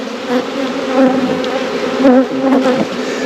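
Loud, steady buzzing of many honey bees right up close as a hive is opened and checked, a dense humming drone that swells and dips slightly.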